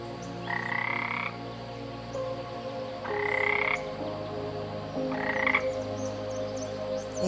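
A frog croaks in three rhythmic bursts, evenly spaced, over a steady background of outdoor ambience and distant insects.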